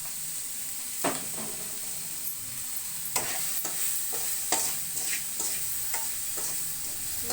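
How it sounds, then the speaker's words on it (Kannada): Tomato, green chili, mint and turmeric are stirred in a sizzling frying pan, with a steady hiss broken by repeated soft scraping strokes of a spoon, close and alone. "ಚೆನ್ನಾಗಿ ಮಿಕ್ಸ್ ಮಾಡ್ಕೋಬೇಕು"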